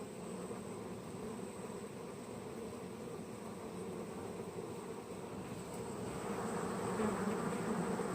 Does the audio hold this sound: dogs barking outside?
no